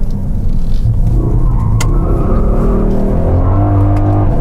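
A Mercedes-AMG four-wheel-drive car accelerates hard close by, its engine roaring loudly and climbing in pitch through the gears with no talk over it.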